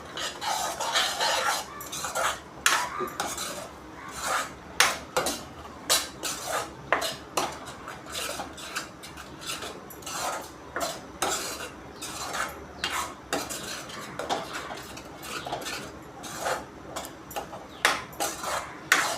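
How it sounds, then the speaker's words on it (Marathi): A spoon scrapes and clanks repeatedly against a kadhai in an uneven rhythm while thick chole masala is stirred, with a faint sizzle beneath. "छोले मसाला टाकून झालेला मध्ये आता व्यवस्थित पूर्ण मिक्स करून घेऊया"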